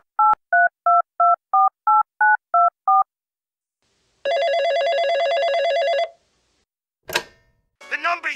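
A telephone number is dialed as nine crisp touch-tone beeps in a steady rhythm. A sustained ringing tone follows, then a short burst and the start of a voice.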